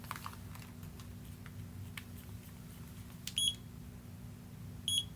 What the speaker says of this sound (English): that beeping is letting you know you are in pairing mode